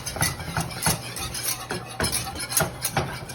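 A spoon stirs butter and flour together into a roux for loaded baked potato soup, scraping and clinking against the pot in a steady, close rhythm with no talking.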